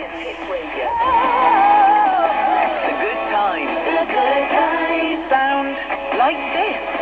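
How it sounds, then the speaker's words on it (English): Greatest Hits Radio broadcast playing through a PL-398 portable radio receiver, with music coming through fairly clearly and steadily at moderate loudness, with slight interference hash from nearby equipment. "So there's Greatest Hits Radio."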